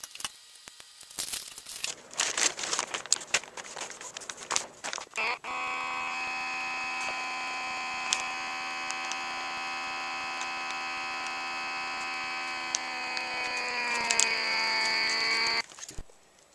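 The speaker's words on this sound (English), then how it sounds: "I'm using this USB charged battery operated Anova precision handheld vacuum sealer." Battery-operated Anova handheld vacuum sealer drawing air out of a filament storage bag: bag crinkling first, then a steady whining motor hum for about ten seconds, whose pitch shifts slightly as the bag tightens before it cuts off.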